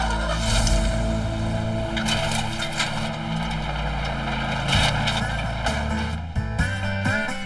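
Several vehicles labour to pull a large stuck truck free in the desert: loud, strained engine roar with revving swells and grinding, tire-spinning noise throughout, close and sustained.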